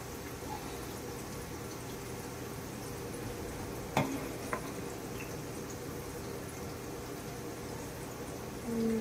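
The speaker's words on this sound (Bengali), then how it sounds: "এখানে তেল গরম হয়ে গেছে, আর আমি এর মধ্যে ওই গোটা গরম মশলা দিয়ে দিয়েছি" Whole garam masala fries in hot oil, giving a faint, steady sizzle with a couple of small pops and clicks and no talking.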